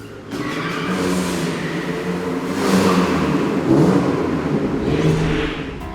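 A car engine accelerating outdoors, a loud close revving whir that swells and eases in several waves with no talking over it.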